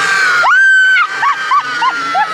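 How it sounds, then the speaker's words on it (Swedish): Visitors at a Gröna Lund Halloween haunted attraction let out one long scream, then several short shrieks and whoops in quick succession, close and loud against a dark background murmur. "Jag älskar att höra dig skrika!"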